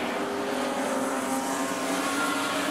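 Super stock race car roaring past at Rockhampton Speedway, a loud continuous engine drone holding steady throughout with no voices.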